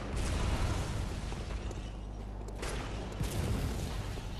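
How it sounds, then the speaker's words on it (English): Gunfire in Bloodborne, a steady dense rumble of shots and bursts layered over a low mechanical roar, continuous and moderately loud with no voices. "Oh, we're being shot at."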